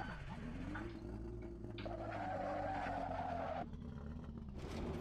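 Tires squeal and screech in a racing video game as a car skids and crashes, the high whine running steadily beneath a droning engine for about five seconds.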